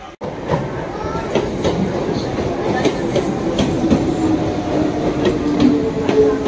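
A train on the Tarakeswar to Sheoraphuli line rumbles loudly and continuously close by, with rhythmic wheel clatter and sharp metallic clicks repeating throughout.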